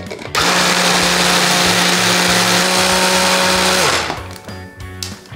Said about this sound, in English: Now we're gonna blend it, puree it until it's all smooth